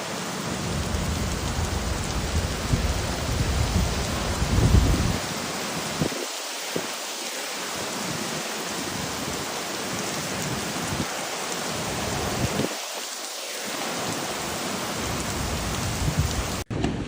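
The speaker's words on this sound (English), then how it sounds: "torrential rain began to fall and high winds blew" Torrential hurricane rain with high winds along the Mexican coast near Cancun, a dense, steady roar of rainfall with a few brief lulls and gusty swells.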